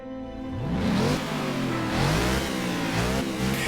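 The 6.3-litre V8 of a Mercedes SLS AMG revs hard and close, its deep engine note climbing and holding with a rough, throaty edge and no speech over it.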